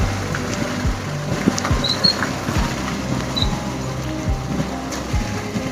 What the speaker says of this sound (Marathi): पाऊस देखील खूप आहे